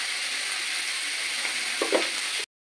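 Onions with a pinch of salt fry in oil with a close, even sizzle; a couple of soft stirring scrapes come near the end before the sound cuts off abruptly.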